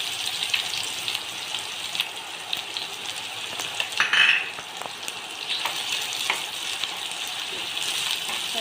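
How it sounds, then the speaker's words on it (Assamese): Finely chopped onions fry in hot oil in a pan, giving a steady, moderate sizzle with small crackles and a brief louder hiss partway through as they are stirred. "এতিয়া মই পিঁয়াজখিনি অকণমান ৰঙচুৱা হোৱালৈকে ভাজি থাকিম।"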